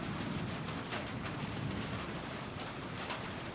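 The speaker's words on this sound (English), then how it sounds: "I do love a good thunder and lightning storm." Steady heavy rain during a thunder and lightning storm in Zhaoqing, China, a dense continuous hiss with faint low rumbling beneath, no voices.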